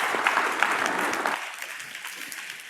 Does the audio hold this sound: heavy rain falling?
no